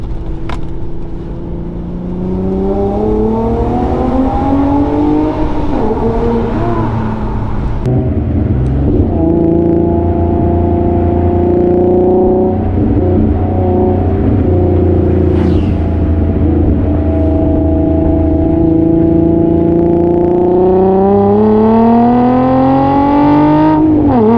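A 2008 Infiniti G35S sedan with a six-speed manual gearbox revs hard and climbs through the gears, heard loud and close from inside the cabin as a continuous, rising engine note.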